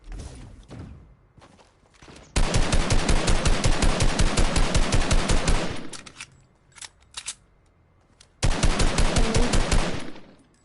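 Automatic weapon fire in Fortnite during a duo arena match, a long sustained burst of rapid shots, then a few scattered single shots and a second rapid burst, loud and close.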